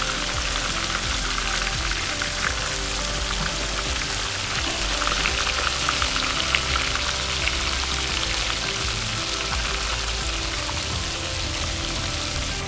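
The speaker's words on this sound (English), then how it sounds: "now I have the panko fish on, and I'm flipping them" Panko-breaded snook fillets fry in a pan with a steady, loud, dense sizzle and crackle that holds without pause throughout.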